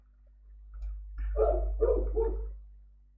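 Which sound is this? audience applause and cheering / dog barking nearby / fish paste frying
dog barking nearby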